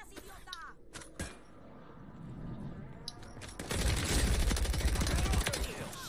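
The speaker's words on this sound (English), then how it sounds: "Enemy fire!" Enemy gunfire in a video game sounds as sharp early shots, then a louder sustained burst of rapid fire in the second half, with voices heard faintly around it.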